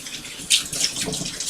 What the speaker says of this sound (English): run a little bit more cold water on this piece right here.